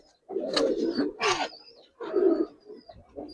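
Giribaz pigeons kept for their coloring coo up close in a few short, throaty bursts separated by brief pauses.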